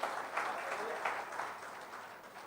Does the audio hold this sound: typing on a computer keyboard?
no